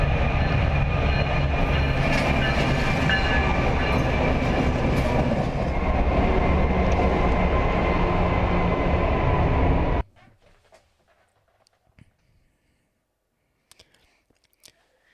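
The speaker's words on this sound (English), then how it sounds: "the train blazes by with only inches to spare" A train roars past at close range inside a tunnel, a loud, dense rumble with rattling wheels that holds steady for about ten seconds, then cuts off abruptly, leaving near silence with faint scattered sounds.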